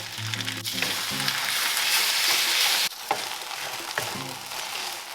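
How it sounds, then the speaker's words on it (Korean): Pad thai noodles with shrimp stir-fried with sauce in a hot pan, a steady loud sizzle with scraping stirs and occasional utensil knocks, briefly dipping midway before resuming. "이제 마지막으로 소스를 넣고 볶아줍니다"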